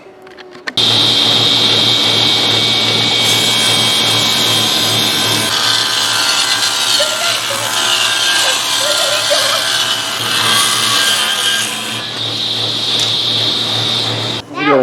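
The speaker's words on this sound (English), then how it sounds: "I think I'm going to plane it down to 5/8 inch." A wooden board is run through a power planer to bring it down to 5/8 inch thick. The cutting whine is loud and close, begins abruptly and holds steady for about fourteen seconds with no voices.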